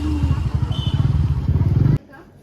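Motorbike engine running close by with a steady low chugging pulse, then cutting off abruptly near the end and leaving quiet behind.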